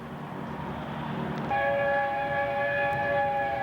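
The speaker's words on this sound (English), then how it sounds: "Here comes the choo-choo train from behind the old trees there." A train sounds its horn somewhere beyond a stand of old trees near a hangar, a steady multi-tone blast entering partway through over a low rumble of rolling stock and staying loud to the end.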